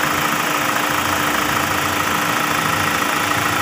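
A 2023 Ford Everest's engine idles steadily in a service bay during an oil change, giving a continuous mid-pitched hum with a slight knocking texture and no speech.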